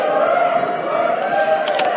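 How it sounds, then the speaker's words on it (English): A loud student crowd fills a high school girls basketball gym, a steady roar of chatter and shouts throughout, with a commentator talking over it. "A loud student crowd here for the Mustangs"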